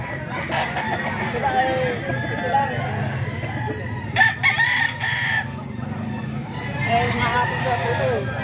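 A rooster, one of the birds offered for sale at about 1,500, crows among clucking fowl, with traffic and men chatting in the background throughout.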